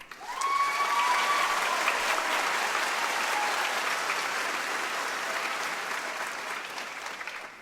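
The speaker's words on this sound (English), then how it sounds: "Let us give a round of applause for the people who helped us make our successes possible." Sustained applause fills a hall at a SUNY Schenectady commencement ceremony, a dense crowd clapping loudly and evenly for several seconds before gradually thinning toward the end.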